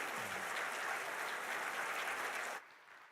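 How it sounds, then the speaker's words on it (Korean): A church congregation in a Korean Sunday service applauds to welcome the pastor, a steady, moderately faint round of clapping that cuts off abruptly near the end. "큰 사랑의 박수를 담아서 우리 목사님"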